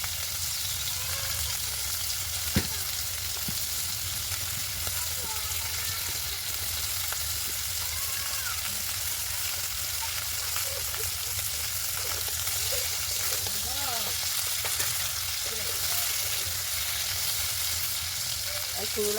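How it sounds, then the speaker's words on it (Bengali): Singhi fish fry lightly in oil in a pan, giving a steady, dense sizzle throughout with occasional soft scrapes and stirring sounds, close and fairly loud with no talk. "মাছগুলো খুব বেশি লাল করবো না, হালকা করেই ভাজবো"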